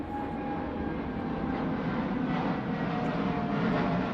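A large passenger jet airliner, an A380, roars overhead at a women's cricket match between the Netherlands and Scotland, a steady broad engine rumble that fills the whole span without pause.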